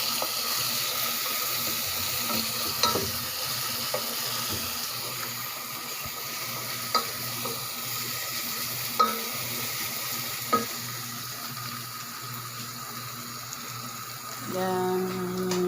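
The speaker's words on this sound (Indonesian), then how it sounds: "Sekarang kita tumis bawang sampai dia agak menguning." Onions sautéing in a pan for a Middle Eastern dish, a steady close sizzle with occasional stirring clinks and scrapes, a brief burst of louder sizzle near the end, no talking.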